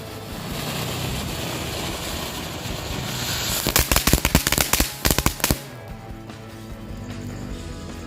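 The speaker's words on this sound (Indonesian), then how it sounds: "Oke, berhasil menyala Volcano Fountain." A Volcano Fountain firework burning with a steady roaring hiss, broken midway by a burst of rapid crackling pops before settling back to a loud continuous rush.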